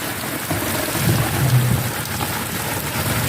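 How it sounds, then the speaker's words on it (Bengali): Steady rain pours over a waterlogged field, a continuous even hiss of drops hitting water and ground throughout, fairly close, with no voices. "এই দেখুন জল, বৃষ্টি পড়ছে।"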